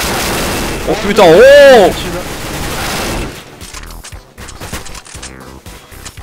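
Bursts of gunfire in the CS:GO video game, sharp cracks and rapid volleys that follow a loud, startled shout from a man.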